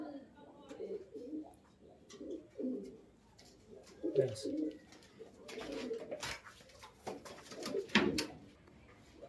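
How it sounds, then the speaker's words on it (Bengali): A kalshira pigeon, a male, coos repeatedly in close, throaty rolling bursts, with a person speaking softly at times over the calls. "এই যে একটা কালশিরা পায়রা"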